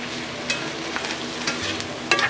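Broccoli beef stir fry cooking in a cast iron pan, a steady close sizzle broken by repeated scraping strokes of a utensil at irregular intervals, with a sharper clatter at the end.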